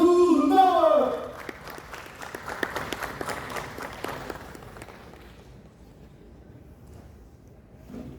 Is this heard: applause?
yes